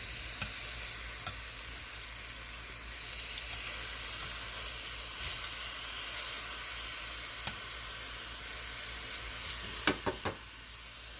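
Onions sizzle steadily in a hot pan with a continuous close frying hiss, a few sharp clicks and pops near the end, no voices.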